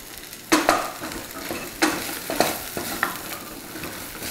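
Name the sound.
sautéing spices in hot oil in a pan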